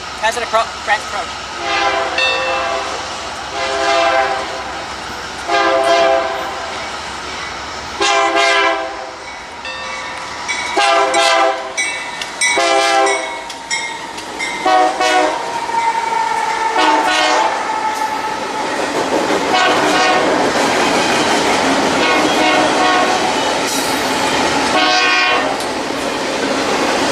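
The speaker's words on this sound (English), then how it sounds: "it's a lot of good horn action from the engineer of that train" Passing Amtrak train with a Santa Fe locomotive sounding repeated loud horn blasts in bursts, mixed with rumbling rail noise and a ringing bell, the horn sustained and strong near the end.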